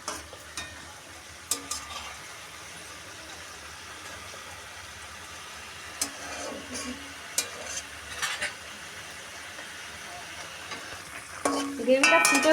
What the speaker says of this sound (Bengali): গ্রেভিটা ফুটে উঠেছে, এবার আমি এতে সয়া সস দিয়ে দিচ্ছি